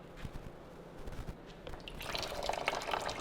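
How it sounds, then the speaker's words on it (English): Water is sucked out of a sunk Can-Am Outlander ATV intake through a clear hose, with faint dripping and gurgling at first, then a louder bubbling, slurping rush of liquid close up toward the end. "You're gonna watch me suck the water through the hose and out."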